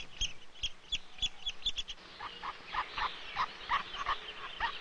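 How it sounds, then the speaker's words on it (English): Repeated high chirping calls give way to a rapid series of buzzy, raspy begging notes from hungry young woodpecker chicks in a tree trunk nest, fairly close and steady. "The buzzing of the hungry chicks can be clearly heard."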